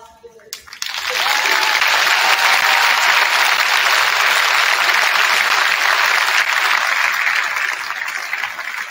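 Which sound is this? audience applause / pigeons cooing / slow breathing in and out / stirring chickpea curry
audience applause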